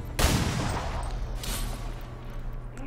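Gunfire from the video game XCOM 2: Long War 2 rings out as one loud sharp burst, followed by a rattling echo and a second, softer crack that fades over a few seconds.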